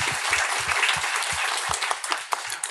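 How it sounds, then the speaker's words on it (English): Applause from the audience at a tech conference talk, steady clapping that stays fairly loud, with some individual claps standing out as it goes on. "Applause."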